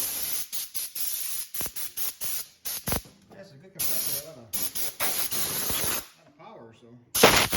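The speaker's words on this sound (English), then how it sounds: "sure does pump up a tire a lot nicer than that little guy does" An Ingersoll Rand IR75 air compressor pumps up a tire, heard as loud, close bursts of hissing air that repeatedly start and stop, with a few mechanical clicks and a voice talking in the pauses.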